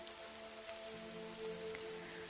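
Steady rain falls in a continuous soft hiss, a wide even wash that stays level throughout with no voices.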